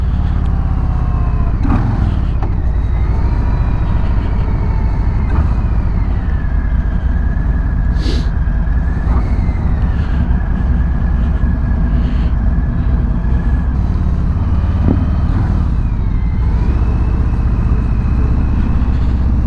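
A 2021 Harley-Davidson Street Bob motorcycle on a ride, its engine a steady loud rumble with wind noise, shifting pitch as it speeds up and slows.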